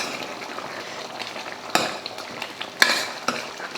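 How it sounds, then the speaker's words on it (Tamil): A spoon stirring roasted, ground masala into a sizzling Chettinad mutton gravy: soft continuous simmer and sizzle with a few sharp metallic clinks of the utensil against the pan, close and clear, with no talking. "சேர்த்துட்டு கலந்துருவோம்."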